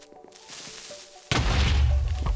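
A Minecraft creeper explosion in the video game: a sudden loud boom bursts in after a quiet stretch of faint game noise, then rumbles on briefly.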